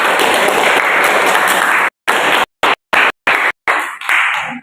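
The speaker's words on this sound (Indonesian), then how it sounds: "kita beri aplaus dulu untuk semua kelompok" Classroom applause for all the student groups, a dense burst of many hands clapping that then breaks into several short choppy bursts before fading out.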